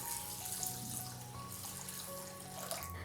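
Tap water runs steadily into a kitchen vessel while dal lentils are rinsed, making a continuous close splashing flow with a few faint drips and no voices.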